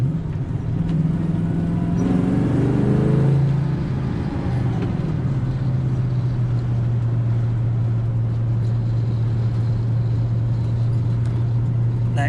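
A Ford Falcon XW GT 351 Windsor V8 pulls under acceleration, its engine and exhaust rising in pitch then settling into a steady, droning rumble heard from inside the car.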